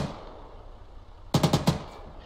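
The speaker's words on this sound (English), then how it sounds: "shoot at whatever that other truck is shooting at" Gunfire in the ArmA 3 military video game: after a quiet stretch, a quick burst of four or five loud, sharp shots in rapid succession, with a short echoing tail.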